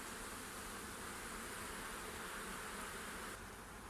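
Wild swarm of honeybees buzzing in August, a dense continuous hum of many wings filling the air evenly at moderate distance, with no voices.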